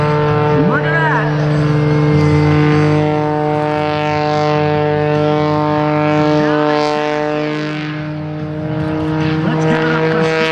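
A 400-horsepower aerobatic plane at a Blue Angels homecoming airshow in Pensacola drones loudly and steadily while hovering almost motionless, a distant engine tone under someone talking over a loudspeaker.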